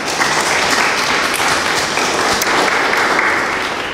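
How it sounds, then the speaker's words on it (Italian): Dense, steady applause from a live audience at an Italian book presentation, continuous and full for the whole stretch with no speech over it. "farei un grande applauso a Giuseppe Basile"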